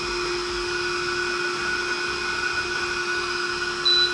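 A roped window cleaning robot runs on shop glass, giving off a loud, steady motorized whine with a constant pitch and a rough, fan-like hiss underneath.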